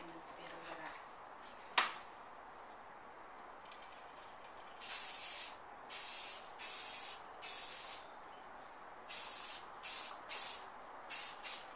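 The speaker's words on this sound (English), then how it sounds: "I'm just going to give a final spray to the hair." Hairspray sprayed onto styled hair: a sharp tap near the start, then a series of short hissing bursts of varying length, close and fairly loud with brief gaps between them.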